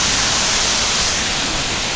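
Buracão waterfall in a Chapada Diamantina canyon roars as a loud, steady wash of broadband rushing water with no pauses.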